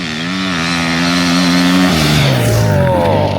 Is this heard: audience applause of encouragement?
no